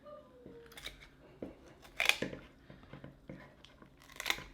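Kitchen shears snip through a smoked chicken cooked on a Pit Barrel Cooker, several crisp, crunchy cuts in uneven bursts up close, with faint handling noise between them.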